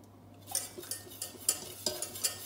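Cream being stirred into a sauce in a pan for cannelloni, with a spoon scraping and tapping the pan in a steady, uneven rhythm, quiet and close over a low background hum.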